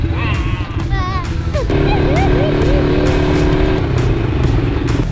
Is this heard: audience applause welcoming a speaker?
no